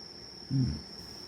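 Crickets and grass insects chirping at night, a thin continuous high trill holding steady throughout, with a brief low soft thump partway through and no voices.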